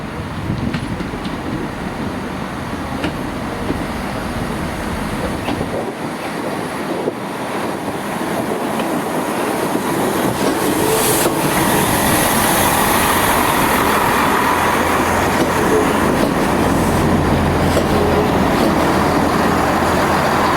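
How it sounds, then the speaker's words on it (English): Great Western Railway Class 165 diesel multiple unit at Windsor and Eton Central station, a steady rumbling drone in windy, rainy weather, with wind buffeting the microphone and the engine note building toward the end. "Gotta love a bit of Great Western Railway action here at Windsor and Eton Central Station."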